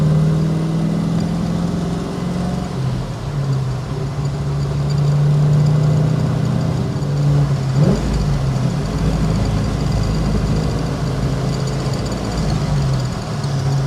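A 1969 Chevrolet COPO Camaro clone's V8 pulls steadily in third gear at barely part throttle on a twisty road, a continuous low engine drone heard from inside the car with a brief swell near the middle.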